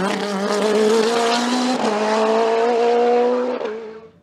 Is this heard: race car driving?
yes